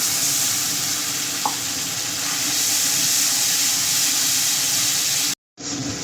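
Tomato paste goes into a pan of sizzling ground chilies and spices for a fish curry, giving a loud, steady frying hiss that cuts out abruptly near the end and then resumes.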